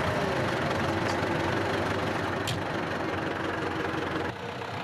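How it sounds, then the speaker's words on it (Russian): A tractor engine runs steadily on a snowy village street, producing a loud, continuous rumbling drone that holds even throughout and then drops slightly in level near the end. "Протоиерей Анатолий Денисов в одну секунду вспрыгивает на трактор."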